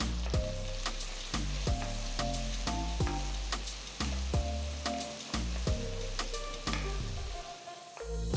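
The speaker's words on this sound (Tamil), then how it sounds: "நறுக்குன 2 பெரிய வெங்காயம் சேர்த்து நல்லா வதக்குங்க." Chopped onions and dried red chillies fry in hot oil with a steady loud sizzle, punctuated by repeated clinks and scrapes of stirring.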